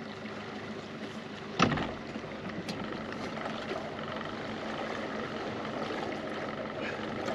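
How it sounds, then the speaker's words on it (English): An outboard boat motor runs offshore near oil rigs in the Gulf of Mexico, a steady, moderately loud drone with a sharp knock early on, while voices talk faintly over it. "He did not like the sound of that motor."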